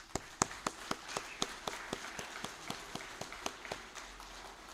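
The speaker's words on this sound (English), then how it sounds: "And please give them a round of applause." Applause from an audience of attendees at a Masonic symposium, a thin spread of individual claps with sharp, regular hand strikes standing out, moderately distant and fairly quiet throughout.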